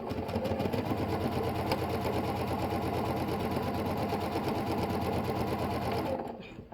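A sewing machine stitches quilt pieces in one steady, rapid needle rhythm that runs for several seconds and then stops abruptly.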